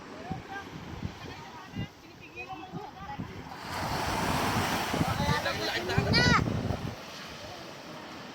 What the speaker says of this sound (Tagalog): Hampas ng alon eh.